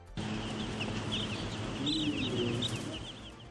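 Chickens at a poultry farm, a steady mass of clucking and chirping birds with scattered brighter calls, moderately loud and continuous, with no talk.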